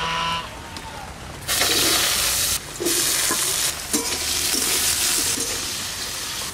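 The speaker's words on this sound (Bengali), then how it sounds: "সর্ষের তেল দিয়ে দিলাম আলু কটা ভাজার জন্য।" Potatoes fry in mustard oil in a wok, a quiet sizzle that jumps to a loud hissing spatter partway through, with scraping stirs and no clear speech.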